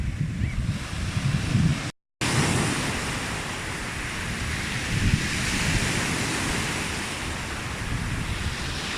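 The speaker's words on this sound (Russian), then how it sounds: "Что-то поднялся очень сильный ветер." Strong wind buffets the microphone at the seashore in Feodosia, a loud continuous roar with surf blended in and a brief dropout near the start.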